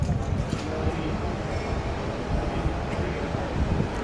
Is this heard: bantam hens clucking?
no